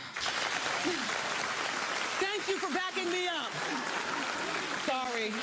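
A television talk-show studio audience claps steadily throughout, with whoops, cheering voices and talk rising over the clapping midway and near the end.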